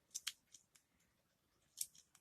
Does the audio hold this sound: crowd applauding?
no